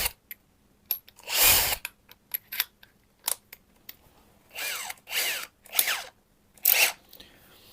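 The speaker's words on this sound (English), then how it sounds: "the first thing that I want to do is drill the holes in here and here" Short bursts of a power drill whirring into material, several separate runs of a second or so with brief pauses and small clicks between them, close by.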